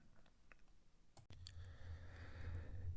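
Keys clicking on a computer keyboard as a ticker symbol is typed, a few sharp taps followed by a firmer press of the return key, close by over a low background hum.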